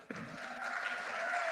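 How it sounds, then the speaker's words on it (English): An audience at a conference stage event applauding a group of presenters, a burst of dense clapping that starts abruptly and holds steady, moderately distant and fairly quiet. "Could we have a round of applause for them, a louder one?"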